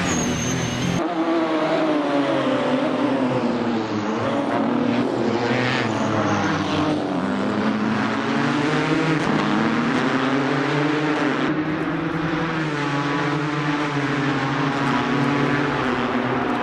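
Touring cars race in a 939 Corse Touring Car Championship sim racing league, engines roaring continuously at high revs with rising and falling pitch through corners and gear changes, loud and steady throughout.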